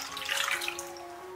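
Eggs being rinsed under running water, a steady splashing stream from a tap with a faint hum beneath, short and fairly quiet.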